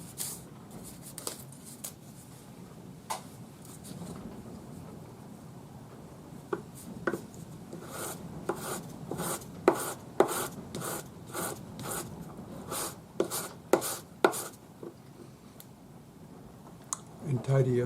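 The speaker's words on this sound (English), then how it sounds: "I'll just take my sanding stick with my 400 grade paper" A sanding stick wrapped in 400 grade paper rubs over the join of a forged twisted silver bangle, giving a quiet scrape that becomes a run of quick, rhythmic strokes close by, growing louder toward the end.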